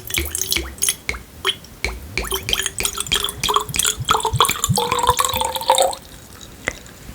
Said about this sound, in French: Je vais verser de l'eau pure dans l'un.